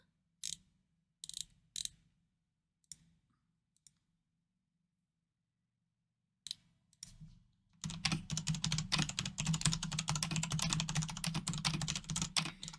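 Typing and clicking on a computer keyboard, starting with a few sparse, isolated clacks and separated by near silence, then turning into a steady stream of rapid keystrokes close to the listener.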